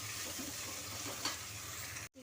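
Beans fry in oil in a pan with a steady, close sizzle that runs continuously before cutting off abruptly at the end.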